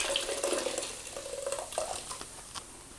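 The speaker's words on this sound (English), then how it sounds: "You're going to want to wring as much water out as you can." Water splashing and trickling as a grout sponge is wrung out into a bucket while grouting shower wall tile, a steady close wet patter with small drips, no talk.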